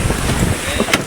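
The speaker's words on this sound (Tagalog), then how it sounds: "Malalaki ang alon ng habagat" Strong monsoon wind buffeting a small boat at sea amid big waves, loud gusty rushing with water sloshing and thumps against the hull, very close and brief.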